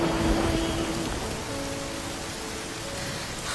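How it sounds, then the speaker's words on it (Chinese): Steady rain falls and patters on a hard surface, dense and continuous throughout with no voices, faint tonal music underneath. "下雨了， 下雨了！"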